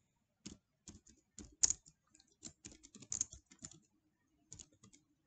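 Computer keyboard keys are typed in short, irregular bursts with quiet pauses between them, close and fairly soft, while a word is entered into a spreadsheet.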